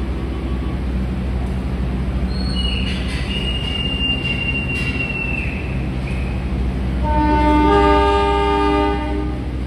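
A Madiun Jaya economy train departing Pasar Senen station, Jakarta, rumbles loudly with high metallic wheel squeals, building into rising tonal screeches and a heavier roar near the end.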